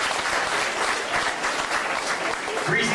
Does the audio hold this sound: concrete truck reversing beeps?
no